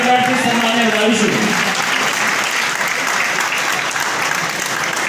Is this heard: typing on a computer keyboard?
no